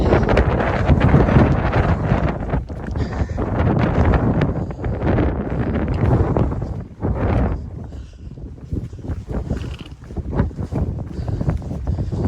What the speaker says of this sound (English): It's windy and cold.